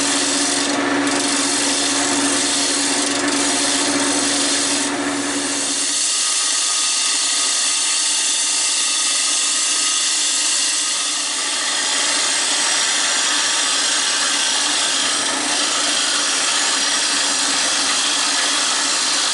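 A wood lathe spins a rusty bowl while a tool trues its rim, making a loud, continuous hissing scrape with a deeper hum underneath for the first few seconds before it thins to a steady rasp.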